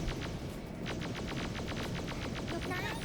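Rapid bursts of machine-gun-like shots crackle continuously from an online mobile fish-shooting game, a dense, evenly paced volley that stays fairly quiet throughout.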